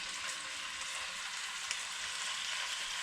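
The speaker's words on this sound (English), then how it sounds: "Now that my pan is kind of warm, I'm going to go ahead and add my fish pieces to the pan." Cobia fish pieces fry in neutral oil in a warm pan, giving a steady, close, hissing sizzle with fine crackle and no talk.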